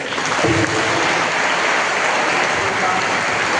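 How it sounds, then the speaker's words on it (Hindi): Loud, dense applause from an audience at a gurukul school event with visiting police officers, continuous and even throughout. "एक बार जोरदार तालियों से"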